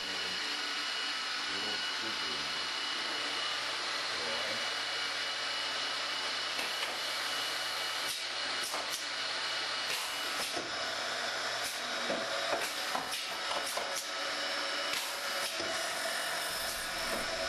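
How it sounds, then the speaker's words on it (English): An automated dowel drilling and sawing machine runs steadily, with a continuous whirring, hissing mechanical drone and repeated brief louder bursts as the drills engage the gravity-fed dowels. "As the drills descend, clamps mounted ahead of the drills hold the dowel in place."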